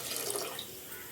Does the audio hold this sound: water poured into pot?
yes